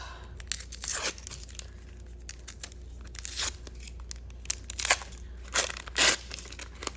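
Paper wax packs of baseball cards being torn open in a string of sharp, quick rips, each crackling tear standing alone against a quiet background.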